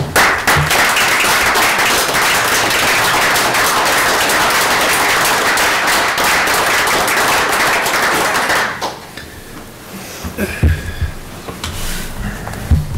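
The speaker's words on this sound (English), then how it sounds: "A round of applause." A city council audience in Richmond claps in a loud, sustained round of applause for almost nine seconds, then it breaks off into quieter room noise with a few scattered sounds.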